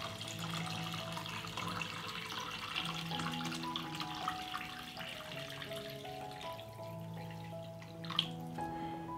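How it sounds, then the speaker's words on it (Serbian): Tap water runs into a cooking pot lined with a cloth and packed with glass jars, filling it up to lid height for pasteurizing; a steady stream with shifting resonant tones, close and alone. "Sipam vodu u šerpu do visine poklopca."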